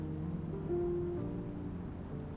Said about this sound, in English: You like the storm sounds?